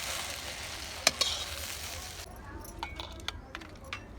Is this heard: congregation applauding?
no